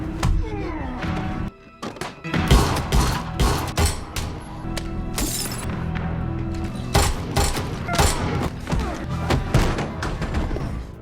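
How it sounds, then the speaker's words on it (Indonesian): Rapid bursts of gunfire crackle back and forth amid heavy thuds and impacts, loud and chaotic, with dramatic film-style sound throughout. "Dan seketika terjadilah aksi saling menembak."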